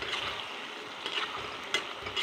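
Potatoes frying in a pan are stirred, giving a soft, steady sizzle broken by a few light scraping knocks of the utensil against the pan.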